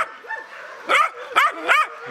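Puppies yip and whimper in a few short, high bursts, close by, with soft whining between the cries.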